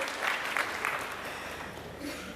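Short, moderately faint round of clapping from an audience at a motivational talk for teachers, a steady wash of hands with a few sharper claps standing out.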